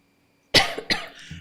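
A presenter at a research information day gives a sudden, close, loud cough in two quick bursts after a silent moment, followed by a softer trailing breath, with no talking.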